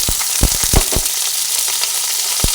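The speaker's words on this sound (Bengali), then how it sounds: "রসুনগুলো দিয়ে ভেজে নিচ্ছি ভালো তেলের মধ্যে" Chopped onion, two dried red chilies and garlic frying in hot oil, a loud, close sizzle throughout with a cluster of sharp stirring knocks early on and one more near the end.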